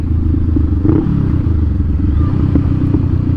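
A 2024 Honda Rebel 500 motorcycle engine runs steadily throughout, a close, continuous low rumble while riding, with a few faint clatters and thumps on top and no talking.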